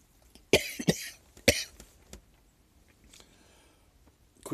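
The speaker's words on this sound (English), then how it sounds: "I'm going to sit here and cough for about 45 minutes now." A person coughs several times in quick harsh bursts, close by, followed by quieter throat noises and breathing.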